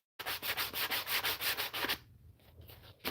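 Hand sanding with 80-grit sandpaper on a custom brush guard for a Volvo XC70 makes about ten quick, rhythmic back-and-forth rasping strokes at close range, then stops into near quiet.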